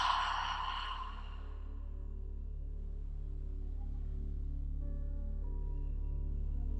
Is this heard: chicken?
no